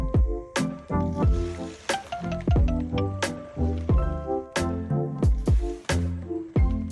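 Degreaser glugs and splashes out of a 7.3 Powerstroke intercooler in bursts of wet, sloshing pours, close and fairly loud, with sharp splatters and gurgles in uneven rhythm.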